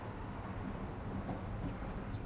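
Inside a moving train carriage, a low, steady rumble of wheels and cabin noise holds faint and unbroken throughout.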